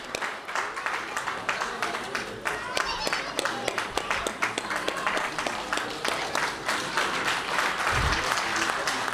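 Audience applause at a Bihar and Jharkhand Diwas celebration event, sustained, dense clapping from a crowd filling the whole stretch, with voices underneath.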